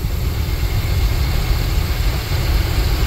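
A 1990 Chevy G30 Shasta motorhome engine runs steadily and smoothly, a loud, close, continuous low rumble with no interruptions and no voices.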